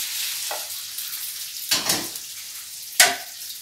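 Frozen langoustines hiss and crackle in a hot pan as they thaw and crisp, with a steady sizzle underneath and three sharp bursts where they are stirred or shifted.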